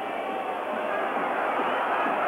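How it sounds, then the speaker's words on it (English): Whistling and jeering from a packed football stadium crowd at the 1986 World Cup match between Argentina and Italy, a dense, continuous roar of disapproval with high whistles running unbroken and steady throughout. "the entire crowd whistling their displeasure"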